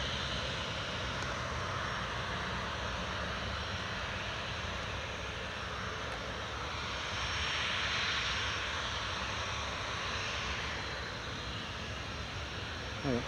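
A Bulgaria Air Charter airliner approaches runway 25 at Newcastle International Airport with a steady, broad jet engine roar that swells slightly midway and stays fairly distant.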